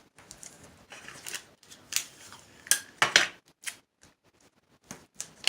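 Scissors snip a paper strip for iris folding in a quiet room, giving a series of short, close, crisp cuts in irregular rhythm with small pauses between them and no talking.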